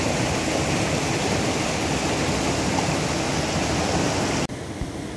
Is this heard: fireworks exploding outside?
no